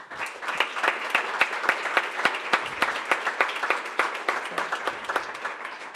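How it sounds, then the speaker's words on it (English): Applause from a modest audience at a startup community meeting, individual claps clearly audible in a quick uneven rhythm, moderately loud and steady for the whole stretch. "can y'all raise your hand and give them a round of applause too?"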